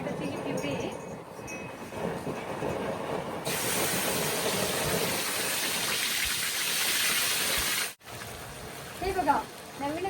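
Onion and tomato puree hitting hot oil with bay leaves in a home kitchen, erupting into a loud, steady broadband sizzle that holds for several seconds, briefly cuts out, then resumes under light background sound.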